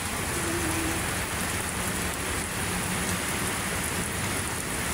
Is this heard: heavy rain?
yes